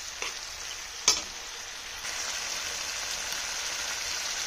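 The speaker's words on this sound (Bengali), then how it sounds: "ট্যাংরা মাছটাকে ভালো করে কষিয়ে নেব" Tengra fish frying in spiced oil with steady, close sizzling, a sharp clink of a utensil against the pan near the start, then constant crackle as the fish is stirred into the masala.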